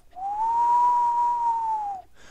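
A single low, steady whistle held for about two seconds, rising slightly at the start and falling off at the end.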